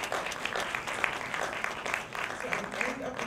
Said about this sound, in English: Give Piana team another round of applause.